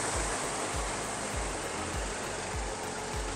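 Rushing water at Pangi Falls in Eastern Samar roars as a steady, loud broadband wash, with no talk and a faint low thumping repeating underneath.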